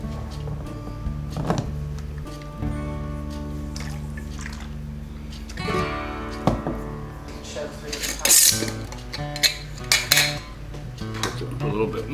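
A lid goes onto a jar of pickled eggs amid close clinks and rattles of glass and metal, over a steady low hum, with several sharp clatters toward the end.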